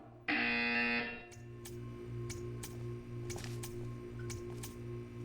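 A loud, high buzzer from the video game Portal 2 blares for about a second, then cuts to a quieter hum with sharp ticks and clicks scattered over the steady game ambience.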